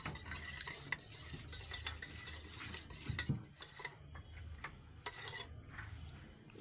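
Salt being stirred into a mixture in a bowl, a steady scraping and rubbing of utensil against the bowl with a few sharper clinks, close and fairly quiet, no talking.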